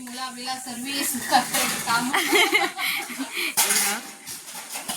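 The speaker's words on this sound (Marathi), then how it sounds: "काकी एवढी भांडी घासते इथे" Dishes and pots clatter and scrape as they are washed, with people talking and laughing throughout.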